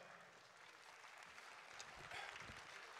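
A faint, distant audience applauds at a World Environment Day event in Pakistan as Malik Amin Aslam, leader of the 10 billion tree project, is welcomed, a soft continuous patter of clapping.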